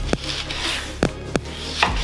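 A sharp knife cuts thin slices of peeled red onion on a board, giving four distinct close chopping knocks at uneven intervals, with quiet rustling between them and no voices.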